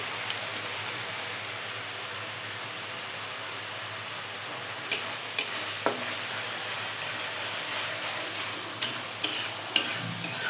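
Chicken masala spices frying in oil in a pan for chicken kosha, a steady soft sizzle with a few scattered clicks and stirring ticks near the end, no voices.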